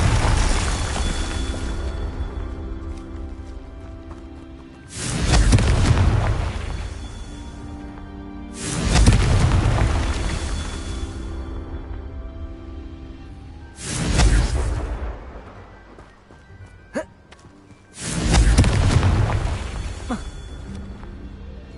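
Confringo spell blasts in Hogwarts Legacy: five separate loud fiery explosions spaced a few seconds apart, each a sharp burst that fades into a rumbling tail, with a quieter background between them.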